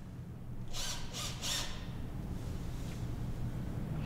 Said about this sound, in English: With a screwdriver or electric screwdriver, reattach the screws to the brackets.